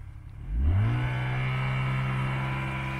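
A snowmobile engine rises from a low idle into a steady, loud full-throttle roar while straining in deep snow on a winter trip in the Altai taiga, holding a high drone to the end.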